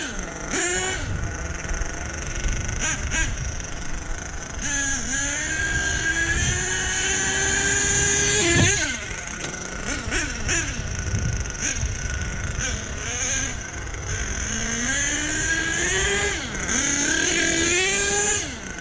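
A Kyosho radio-controlled car engine revving and whining through rising and falling pitch sweeps, loud and close, with bursts of acceleration and brief throttle blips over about nineteen seconds.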